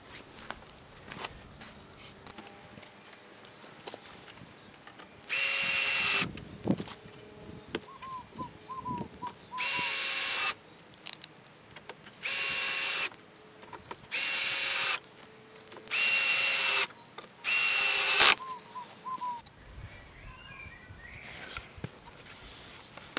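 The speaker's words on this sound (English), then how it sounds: "first I drilled, lining up my scratch line." A power drill bores holes through a wooden sawhorse in six steady bursts of high whine, each lasting a second or two. Quiet shuffling and handling noises fill the gaps between the bursts.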